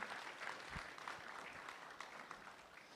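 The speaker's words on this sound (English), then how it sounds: "Big round of applause to Vedanti." Congregation applause at a temple gathering, a soft, fairly distant patter of many hands clapping that continues evenly throughout.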